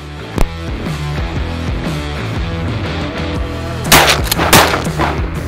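Shotguns fire at a winter duck hunt in Idaho. One sharp shot comes early, then a quick cluster of louder reports near the end, over a steady tonal background.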